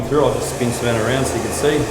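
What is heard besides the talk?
hair blow dryer running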